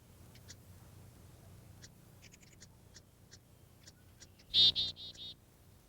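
High, thin chirps from baby birds in a nest box sound near the end in a short burst of four calls. Faint scattered peeps and a low background hum come before them.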